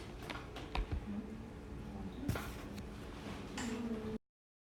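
Buttons on a graphing calculator are tapped in quick, faint clicks as numbers go into a matrix, an irregular patter with a few sharper presses, ending in silence.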